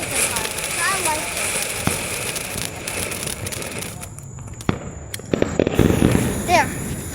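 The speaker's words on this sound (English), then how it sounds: "Oh, that was the fireworks." Backyard Fourth of July fireworks crackle and pop in a scattered burst of sharp bangs near the end, with voices and background bustle throughout.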